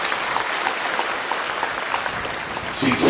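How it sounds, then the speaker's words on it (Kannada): A dense, steady crowd of hands claps in a hall at a talent award ceremony for meritorious students in Mandya, continuous and fairly loud for the whole stretch, swelling slightly near the end. "ಅವರಿಗೆ ದೊಡ್ಡ ಚಪ್ಪಾಳೆಯನ್ನ ನೀವು ಹೊಡಿಬೇಕು."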